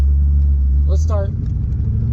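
A car engine, given a few pumps of gas beforehand, idles with a strong steady low rumble, briefly interrupted by a short voice, then continues running with a rougher, fluctuating texture.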